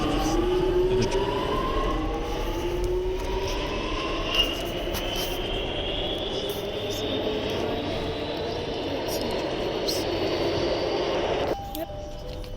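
An automatic subway express train runs at speed, with a continuous loud rumble and rising and falling whine over steady rail noise, a faint voice in the background, and a change in tone near the end.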